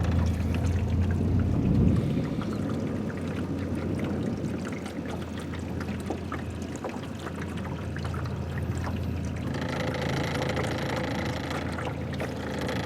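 A boat moves across water on a river salmon fishing spot, with a soft continuous wash and splashing of water against the hull and a faint motor hum, fairly quiet and steady throughout.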